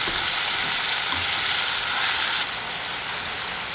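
Soy sauce and sesame oil go into a hot pot for Korean beef seaweed soup, raising a loud, steady sizzle and hiss that drops to a slightly quieter level partway through.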